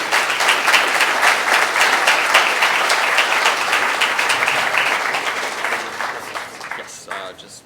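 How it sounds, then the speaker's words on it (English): Sustained applause fills a conference hall as panelists join the stage at a machine learning startup panel, a dense steady clatter of many hands that fades toward the end as a voice begins speaking. "can we have a round of applause,"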